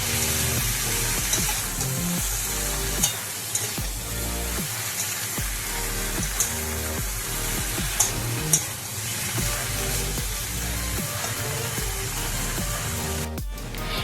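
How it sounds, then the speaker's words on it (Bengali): Mixed vegetables fry in oil in a pan, giving a constant close sizzle with occasional stirring scrapes, partly masked by steady background music throughout. "তার জন্য তেল দিয়ে সবজিগুলো ভালোভাবে নেড়ে নিচ্ছি"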